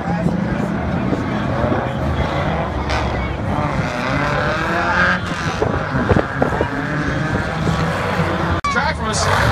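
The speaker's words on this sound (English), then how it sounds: "We got a parade of cars now coming down the left side of our race course." Ultra4 off-road race cars roar past along a rocky championship course, engines revving and droning loudly in a continuous parade with occasional surges, while a commentator talks over the noise.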